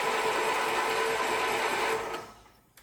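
A Wheel Horse lawn tractor engine cranks on the key, its starter churning in a steady, even whir for about two seconds before it winds down and stops.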